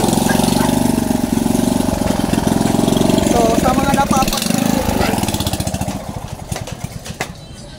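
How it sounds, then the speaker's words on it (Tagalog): A loud motorcycle engine idles and revs at a busy public market in Navotas, a steady mechanical drone that fades toward the end while someone talks over it. "sobrang ingay ng motor"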